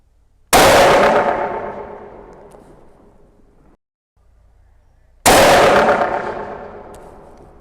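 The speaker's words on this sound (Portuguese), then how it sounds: "Eu vou mexer mais um ponto e vou dar mais um disparo." Precision rifle fitted with an EC Tuner barrel tuner firing two sharp, loud shots several seconds apart, each a sudden crack with a long decaying echo across an open range.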